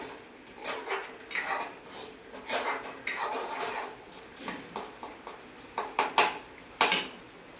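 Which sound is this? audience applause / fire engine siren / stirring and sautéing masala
stirring and sautéing masala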